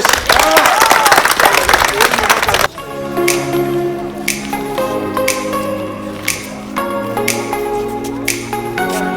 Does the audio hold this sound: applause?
yes